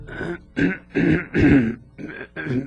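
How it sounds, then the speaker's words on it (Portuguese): A man in an audio drama clears his throat in a series of raspy, gravelly bursts, close and fairly loud, with short pauses between each effort. "Depois pigarreou e..."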